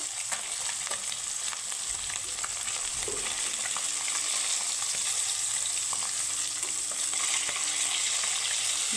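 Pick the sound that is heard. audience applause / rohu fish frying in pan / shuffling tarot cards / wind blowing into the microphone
rohu fish frying in pan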